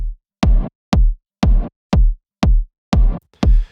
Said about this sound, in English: It's just a standard 808 kick sort of deal